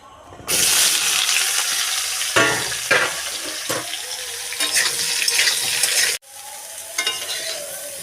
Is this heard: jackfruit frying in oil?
yes